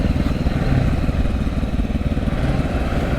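A new Royal Enfield Bullet motorcycle engine thumps steadily at a low, rumbling idle, close and loud with an even pulsing beat throughout.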